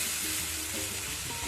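Flattened rice pulao is stirred in a hot pan, a brief close sizzle with soft scraping of the spoon, no voices.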